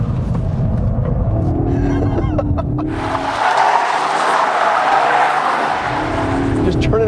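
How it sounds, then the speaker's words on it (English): A 2013 Ford Focus ST drifts on a handling track, its engine droning under talk before the tires break into a long, loud skidding squeal, then the engine note returns. "If you turn in hard enough, you'll go into a drift."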